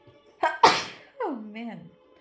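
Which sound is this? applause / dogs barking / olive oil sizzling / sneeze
sneeze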